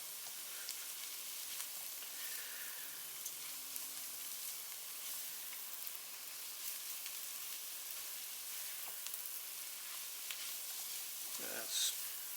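Leeks sizzle steadily in a hot pan for a smoked ham hock winter vegetable stew, a soft continuous hiss with faint stirring and a brief clatter near the end.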